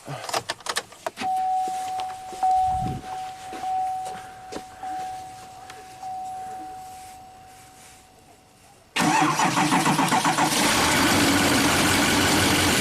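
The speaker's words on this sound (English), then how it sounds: "Let's put the key on, see if it cranks up." A Duramax diesel truck sits with the key turned on, giving a soft click and a long steady electrical whine, then the engine cranks loudly with a rapid, even rhythmic churn to the end.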